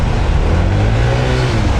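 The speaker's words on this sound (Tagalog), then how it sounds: "ayan no, parang masyado ng gigil yung makina" Honda ADV 160 scooter fitted with 12-gram rollers, engine accelerating with a loud, close, continuous drone and a slowly rising tone.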